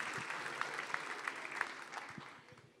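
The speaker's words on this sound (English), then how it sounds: "Can we have one more round of applause for the awesome children's choir?" A luncheon audience applauds a children's choir: dense, steady clapping from a large crowd at moderate volume, tapering off toward the end.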